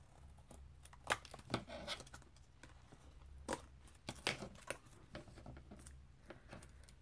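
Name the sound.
cutting with scissors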